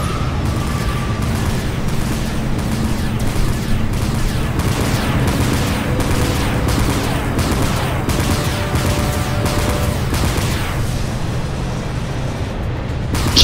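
Ship weapons in the naval combat video game Dreadnought fire as torpedoes launch, a loud sustained barrage of rapid repeated blasts and booms over a steady rumbling engine drone, continuous for the whole stretch.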